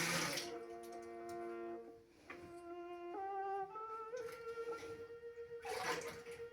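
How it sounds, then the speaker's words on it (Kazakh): Water pours onto yogurt in a container in a few bursts, the tone rising steadily as the vessel fills, with splashy gushes at the start and end. "Одан кейін ол қатықтың үстіне су құямыз"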